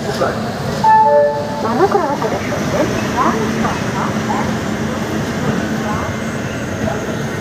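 The Dhauli Express rumbles along near Kharagpur with a steady clatter of wheels and carriage noise, brief horn-like tones early on and voices talking over the din.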